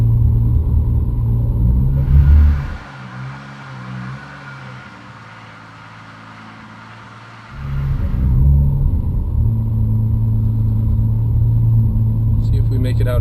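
Turbocharged Lexus IS300 car being driven, its engine rumbling loud and close with a steady low drone that eases back for a few seconds mid-clip before building again.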